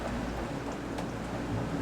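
A rain storm arrives over a harbor with small boats during hurricane season, heard as a faint, steady, even wash of rain with no voices.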